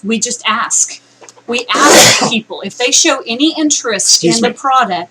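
A single loud, sharp sneeze bursts out close by in the middle of ongoing conversation, with people talking before and after it.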